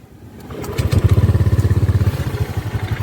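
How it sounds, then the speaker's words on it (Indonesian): A Honda Vario 125 motorcycle engine fitted with an aftermarket alarm starts up and settles into a steady, rhythmic idle, chugging close and fairly loud for a few seconds. "Jadi kita hidupin motornya"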